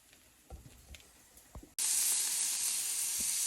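Steaks sizzle in a hot pan, a loud steady hiss that swells suddenly after a quieter stretch of faint clicks and thumps, then holds constant and close.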